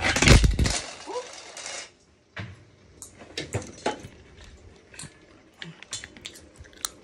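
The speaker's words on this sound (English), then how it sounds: "And that's what happens when your camera topples." A camera topples over: a loud clattering crash and thud at the start, followed by quieter scattered knocks and handling noises.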